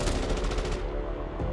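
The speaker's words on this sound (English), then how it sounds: "The clicking and clacking of weapons gave way to a barrage of muzzle flashes and ear-piercing gunfire." A rapid burst of automatic gunfire rattles loudly for under a second, then a single sharp shot follows as it echoes out.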